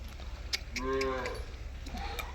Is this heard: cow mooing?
yes